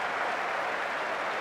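Steady applause from the crowd at a Brisbane Ashes cricket Test, a dense, even wash of clapping from many hands that holds at one loud level for the whole moment.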